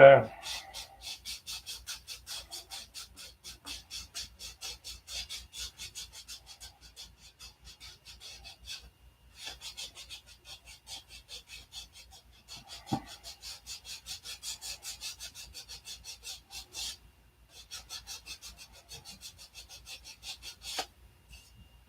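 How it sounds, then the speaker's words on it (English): Sandpaper worked by hand over a painted surface being prepped for primer, a steady rhythmic back-and-forth scratching that runs for most of the stretch, with a few short pauses and brief knocks. "So let's sand this here"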